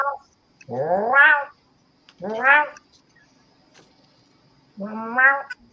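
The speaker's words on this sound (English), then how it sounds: "Brian, your cat's all like, feed me" A cat meows three times, loud and close, each call a drawn-out wavering cry separated by short silences.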